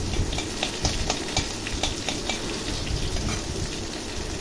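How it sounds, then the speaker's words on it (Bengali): Ginger and chili paste hits hot oil with black cumin and dried chili in a pan, a steady sizzle with faint scrapes of stirring, close and continuous with no voices. "এই লঙ্কা এবং কালো জিরে খুব ভালো করে ভেজে নিয়ে এর মধ্যে দিয়ে দিলাম আদা ও লঙ্কার পেস্ট।"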